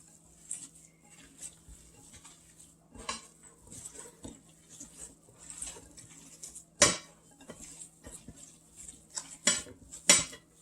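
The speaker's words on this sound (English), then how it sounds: "I am going to use my hands to mix all this together" Hands mixing ground beef and cabbage in a bowl, soft squelching pats and rustles with a few sharper clatters against the container, close up and fairly quiet over a faint hum.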